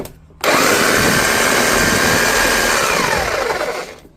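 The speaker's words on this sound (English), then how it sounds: "This is actually drills as well as hammers." A Bosch GSH538D demolition hammer starts after repair and runs steadily at a loud, close whine for about four seconds before winding down.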